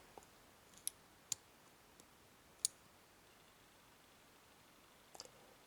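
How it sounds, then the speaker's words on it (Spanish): Picking a TESA T10 ten-pin dimple lock: sparse, sharp metallic pin clicks, a few distinct ticks spaced irregularly over a quiet background, one louder click standing out, with a small cluster near the end. "tercero inferior, hace un clic"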